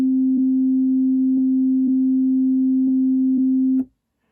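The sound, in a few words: Korg wavestate synthesizer playing a two-step looped sequence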